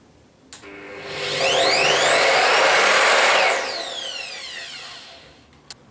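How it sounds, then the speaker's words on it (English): An Evolution R255SMS 10-inch sliding mitre saw motor soft-starts, its whine rising gradually to a loud, steady run before winding down smoothly, with a click at the start and end. "And the thing that you won't be expecting with this motor is the fact that it's soft start."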